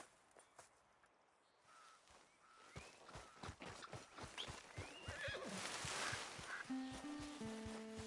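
Horse in the Red Dead video game neighing and whinnying loudly, with a run of clip-clopping hooves building up and getting nearer, then a drawn-out whinny over a faint background tone, with no talk.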